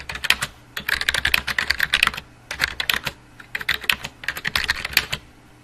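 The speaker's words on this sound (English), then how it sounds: "we can hold down the Shift key, press T, and that capitalizes the T" Typing on a computer keyboard, rapid bursts of close key clicks in uneven runs with short pauses between them, and no talking.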